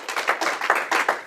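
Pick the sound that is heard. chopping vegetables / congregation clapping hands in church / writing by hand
congregation clapping hands in church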